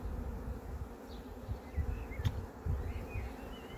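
A swarm of bees buzzes in a beekeeping setting, a faint, continuous hum with scattered nearer wingbeats passing by, no voices present.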